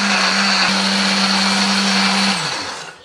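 Kitchen blender grinding chili, shallots, turmeric and spices with a little water, a loud steady whirring hum that runs evenly, then slows and fades as the motor winds down.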